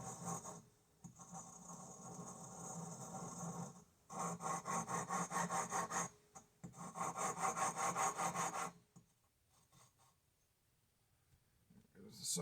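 Valve lapping on a Kohler Command CH16S engine head, with lapping compound ground between valve and seat: repeated rhythmic rasping strokes in bursts, fairly close, with short pauses between runs.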